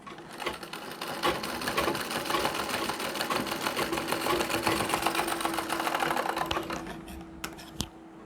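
A sewing machine stitches a chain trim onto a nauvari sari, running in a continuous, even whir with rapid needle ticks for about seven seconds, close up, with light fabric handling and no voices.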